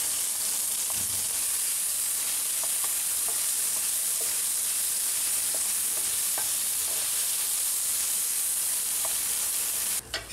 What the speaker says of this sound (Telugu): దీనిలో చింతపండు కలిపి మరి కొంచెం సేపు వేయించండి